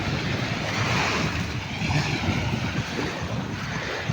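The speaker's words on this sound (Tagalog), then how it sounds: "Sa tabing dagat." Seaside waves washing in steadily at close range, a continuous broad rushing surf mixed with some wind noise on the microphone.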